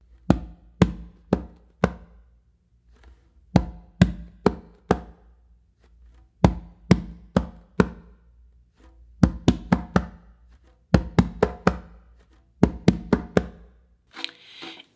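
Hand drum exercise of two palm bass tones then two fingertip tones, crisp close strikes in repeating groups with short gaps between phrases, played alone.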